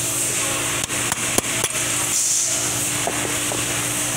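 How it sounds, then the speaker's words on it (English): Several sharp metallic hammer strikes ring out at uneven intervals as a bushing is driven out of a 4L60E transmission in a workshop, over a steady background hiss. "when you're gonna hit it at an angle like this, and start it and hit it and get the bushing like that"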